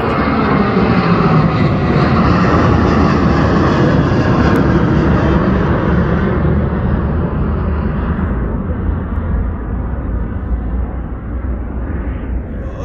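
A Southwest airliner takes off from Houston IAH airport, its jet engines a loud, sustained roar heard from near the runway that slowly fades as the plane climbs away, with no talk over it.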